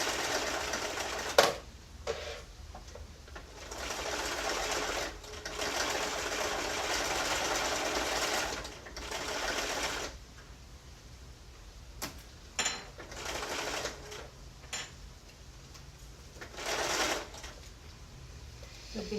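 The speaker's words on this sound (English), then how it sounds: "I'm going to drop my needle in and I'm going to lift my foot to turn that corner so that I have a nice square corner there." Sewing machine stitching a slipcover corner, running in steady bursts of rapid mechanical whirring separated by brief pauses where the needle is set and the fabric turned, close and moderately quiet.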